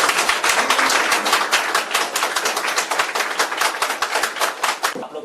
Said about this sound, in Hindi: तालियों की गड़गड़ाहट के साथ में हम सीएम जी साहब को इनवाइट करते हैं